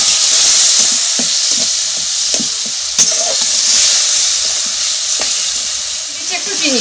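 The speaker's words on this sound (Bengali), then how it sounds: "এবার মশলাটাকে ভালো করে কষিয়ে নেব।" A spice masala of turmeric, chili, coriander and cumin with a little water fries in a pan in a village kitchen. There's a loud, steady close sizzle and hiss, with scattered scraping stir strokes and a sharp knock.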